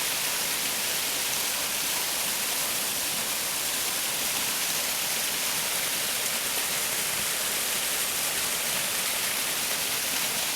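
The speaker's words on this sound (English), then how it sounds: "I couldn't resist filming this other waterfall that I've just come across." Small waterfall in the lush, green Priory Groves at Brecon, a steady broadband rush of falling water that stays even and unbroken throughout, moderately loud with no voices.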